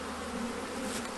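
A small cluster of honeybees hums steadily on a frame during a hive inspection, three weeks after an Easter swarm with queens emerging, a close continuous drone with no other sound.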